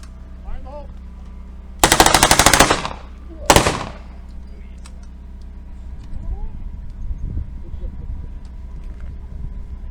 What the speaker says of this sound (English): That is the MP40.